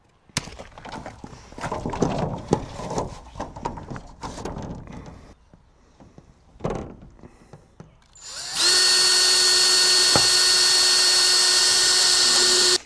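A power drill drives roofing screws into greenhouse roof sheeting, with short bursts of clattering handling and drilling, then a loud, sustained whine of the drill running close.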